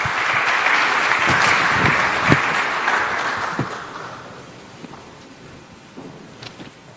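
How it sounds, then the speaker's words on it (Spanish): A crowd applauds steadily, the clapping gradually thinning and fading over several seconds with a few scattered claps at the end. "gracias por felicitarlo con un buen cálido aplauso"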